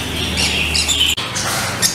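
Pet birds at a seller's shop squawk loudly and continuously, harsh calls overlapping with chirps in a dense, close chorus with a brief dip midway.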